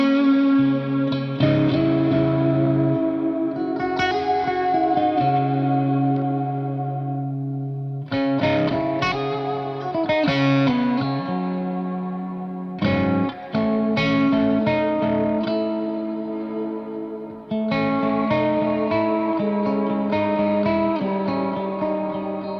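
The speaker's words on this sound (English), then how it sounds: "BFR, the big reverb patch" Electric guitar through a Walrus Audio R1 Mako stereo reverb pedal on its BFR big reverb patch, sustained chords and notes blooming into a dense wash of ambient reflections, played in phrases with brief gaps, loud and alone.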